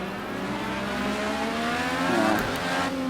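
Clio Cup race cars lapping Indianapolis in a racing game, engines droning and revving steadily close by, with one car swelling past near the end and no talk.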